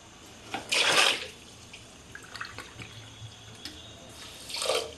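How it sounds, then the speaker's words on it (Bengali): Water poured into three cups of sugar for Bengali-style jalebi syrup, heard as two short splashing bursts, a louder one near the start and another at the end, with faint clinks in between and no talk. "তিন কাপ চিনিতে দেড় কাপ জল দেব"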